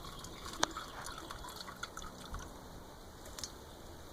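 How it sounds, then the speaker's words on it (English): Sweet black rice wine juice trickles through a strainer, a faint, steady wet dribble with a few scattered drips, heard close and quiet. "to strain out the juice by using a strainer like this, because we don't want the rice grain,"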